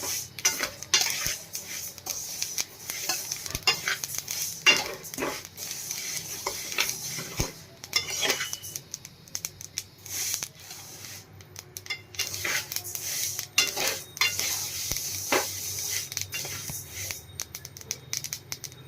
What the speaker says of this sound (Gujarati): તલ એકદમ સરસ ફૂટી જાય એટલે આપણે આને શેકવાના છે